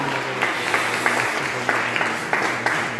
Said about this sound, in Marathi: पुन्हा एकदा जोरात टाळ्या वाजवून प्रभू येशूला धन्यवाद देऊया.